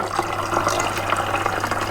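Water poured into a bottle gurgles steadily and fairly close, a continuous splashing fill with a low hum underneath.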